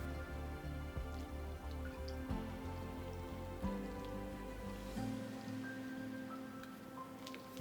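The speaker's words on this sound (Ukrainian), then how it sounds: "І тепер заливаю рідиною гарячою, стараючись не попасти на часник." Hot liquid is poured over shredded Korean-style carrots mixed with garlic, producing a steady trickling, dripping wash that runs continuously and close by, with no talking.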